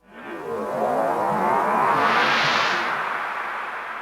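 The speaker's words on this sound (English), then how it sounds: "I also created some riser transition sounds" A reversed riser transition effect from a music track, a smooth airy whoosh that swells from nothing to a bright peak over a few seconds, then holds and slowly fades, with no voices.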